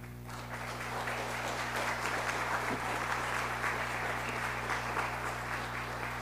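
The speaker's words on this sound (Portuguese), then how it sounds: "tenho certeza que toda a torcida nossa te aplaude de pé, Breno" Audience applauding at a formal honorary-citizen ceremony in the municipal chamber of Ribeirão Preto, a full, sustained ovation that swells in the first moment and holds steady, with a low electrical hum underneath.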